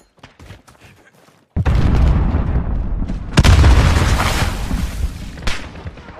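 A grenade goes off in Call of Duty: Modern Warfare with a sudden loud boom after quieter sounds, followed by a sustained rumbling roar and a second heavy blast.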